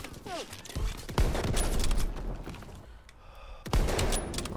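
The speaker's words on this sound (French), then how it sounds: "Hop là, un petit kill au fusil de précision quand même." Sniper rifle shots in the Call of Duty WWII video game: two sharp cracks a few seconds apart over busy battlefield noise.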